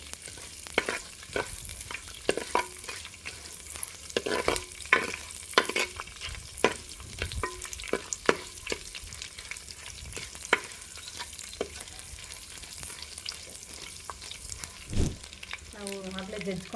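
Spices and two dried red chillies frying for a Kerala-style mackerel curry, a continuous crackling sizzle with frequent quick stirring clatters, close and busy throughout.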